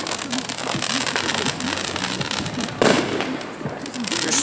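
Small backyard fireworks show with firecrackers bursting in rapid, crackling pops one after another, a louder blast near the middle, and voices faintly in the background.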